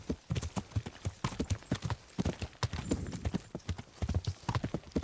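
Horse hooves clip-clop steadily on the ground in the medieval game Kingdom Come, a close, regular rhythm of strikes running through the whole stretch with an occasional faint whinny.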